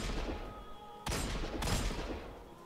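Gunfire in the video game Destiny 2: two sharp, loud bursts of shots about half a second apart, each dropping into a steady hum of game noise.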